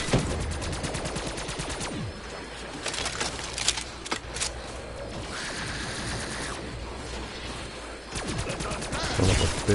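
Gunfire crackles in a zombies video game as rapid bursts of shots, near and loud, come in clusters at the start, middle and end over a busy game backdrop.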